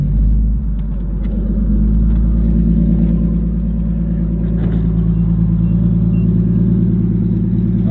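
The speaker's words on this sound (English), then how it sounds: "I guess we just did a muffler delete." An Infiniti G35 with its full exhaust removed back to the headers idles with a deep, loud, raw rumble and gives a few throttle blips, unmuffled and close.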